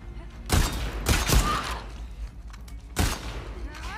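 Several sharp gunshot bursts trade back and forth in a firefight in The Last of Us Part II, loud and close, with quieter gaps between the volleys.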